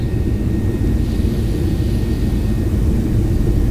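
A loud, steady airplane engine roar fills the whole stretch, a constant rumble with rattling as the aircraft accelerates for takeoff from Naha, heard close from inside.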